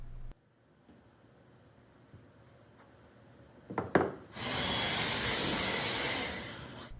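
A router fitted with a template bushing cuts juice grooves and a decorative border into a black cherry board, a steady loud whining roar starting after a few quiet seconds and some brief bumps.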